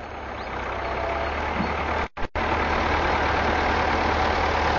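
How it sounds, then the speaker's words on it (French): Trucks and buses in busy traffic make a continuous low engine drone and idling rumble with a broad wash of road noise. It holds steady apart from two brief dropouts midway. "Tous ces camions, tous ces bus, toute cette pagaille"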